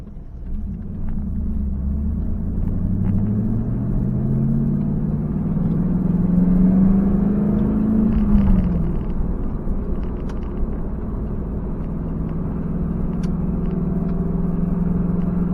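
A car driving on the road with tires nice and wide: a steady engine rumble and road noise throughout, with the engine pitch rising as it accelerates, then settling back to a constant drone, heard from inside.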